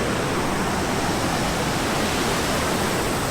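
A river flowing at a camping ground in Nakatsugawa, Gifu prefecture, Japan, a constant loud rushing wash of water with no breaks.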